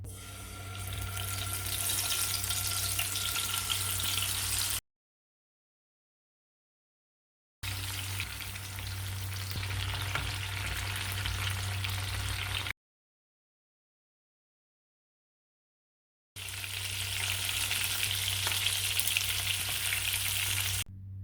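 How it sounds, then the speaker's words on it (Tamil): Marinated pieces deep-fry in hot oil with a steady, dense sizzling hiss at moderate loudness. It runs in three separate stretches divided by dead-silent gaps, with no talking. "ஒரு அரை மணி நேரம் ஊறினதும் எண்ணெயில் பொரி பொரித்து எடுத்துக்கலாம்"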